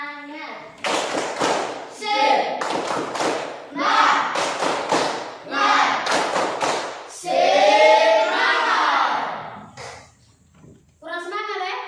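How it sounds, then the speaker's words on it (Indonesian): Children perform the Indonesian 'tepuk semangat' spirit clap, with groups of quick rhythmic claps alternating with chanted voices in a lively repeated pattern, ending in a shouted cheer and a short pause before more voices. "Tepuk semangat."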